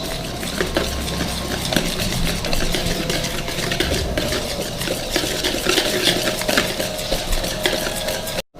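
Homemade butter is stirred into cake batter for cake rusk with a busy, continuous scraping and clattering of a spoon against a bowl, close and steady until a sudden stop at the end.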